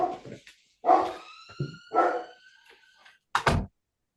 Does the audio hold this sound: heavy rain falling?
no